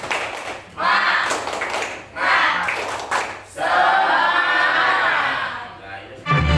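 A classroom group performs the rhythmic tepuk semangat spirit clap, bursts of clapping alternating with a chanted group shout, close and fairly loud, with short pauses between the bursts.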